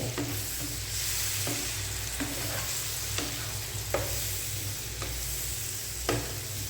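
Shrimp sautéing in a pan over medium heat, a steady sizzle broken by regular scraping stirs of a spatula, close and fairly loud with no talk.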